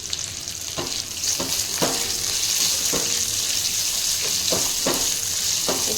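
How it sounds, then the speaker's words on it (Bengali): Red and yellow bell peppers stir-fried in a pan for chilli chicken, a steady loud sizzle of hot oil broken by a series of sharp scraping stirs at irregular intervals. "Red bell paper, yellow bell paper দিয়ে এটা আমি ভালো করে নেড়ে নিচ্ছি।"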